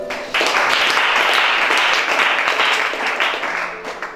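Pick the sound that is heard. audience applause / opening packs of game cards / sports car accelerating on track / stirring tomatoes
audience applause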